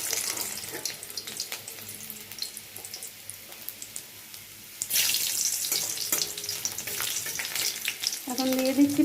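Chopped garlic dropped into hot oil in a kadai wok crackles and sizzles, the frying swelling sharply about halfway through and staying loud and close to the end, with no talking.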